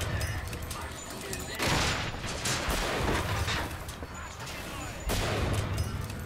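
Turret fire in a BioShock Infinite battle comes as bursts of dense, loud gunfire with sharp booming onsets near 1.7 and 5.1 seconds, crackling steadily in between with busy game noise.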